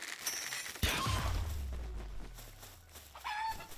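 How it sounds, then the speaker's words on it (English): Chicken in the video game Palworld, clucking and crowing in short bursts with a low engine-like rumble underneath, fairly clear and close. "There's a chicken."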